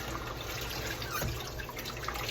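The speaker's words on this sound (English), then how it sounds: "So you can drain the water off of them like this." Water trickles and splashes steadily as it is drained off mushrooms in a kitchen, a continuous close wash of liquid sound with no speech.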